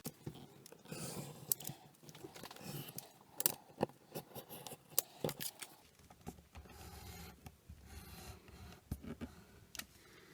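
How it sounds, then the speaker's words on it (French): Scissors snip off excess material in a small craft project, a run of short crisp cuts and clicks scattered across the clip at close range, with no talking. "On retourne et on coupe l'excédent."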